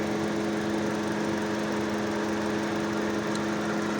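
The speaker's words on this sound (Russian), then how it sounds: "вентилятор включился." A Hyundai i40's electric radiator fan whirs under the hood alongside the running engine, a steady, loud, close drone with a constant hum and no breaks.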